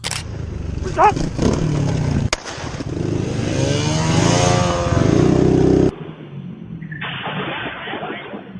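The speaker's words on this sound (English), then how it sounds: "The Special Criminal Police pursued two men who were driving recklessly on motorcycles." Motorcycles roar loudly during a police chase of two reckless riders, engines revving hard and close with a rising, rasping snarl, then cutting abruptly to a quieter, muffled rumble.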